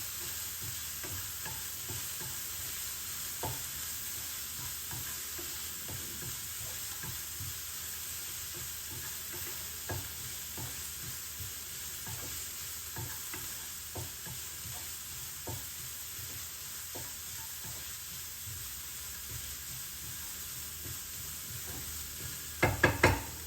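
Flattened rice (poha) is lightly sautéed in a pan to dry off its moisture, with a steady, quiet sizzle broken by frequent soft stirring scrapes and a few sharper knocks near the end.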